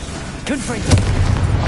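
A Confringo fire spell in Hogwarts Legacy bursts with a heavy boom and rumble, and a spoken voice overlaps the blast.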